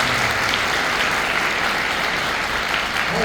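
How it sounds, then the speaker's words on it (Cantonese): A school audience at a secondary school gathering claps together in a steady, dense burst of applause that stays loud and even throughout, with no voices standing out. "俾多一次掌聲我哋嘅啱啱"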